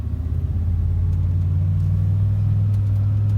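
A Chevrolet Silverado truck with an aftermarket muffler and rod knock idles with a deep, steady low rumble close by, holding an even throbbing drone throughout with no talk.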